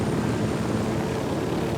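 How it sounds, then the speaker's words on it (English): A Unidad helicopter in Ghost Recon Wildlands drones steadily nearby, a continuous broad rotor and engine roar at moderate loudness with no talk. "there's a Unidad helicopter to my right"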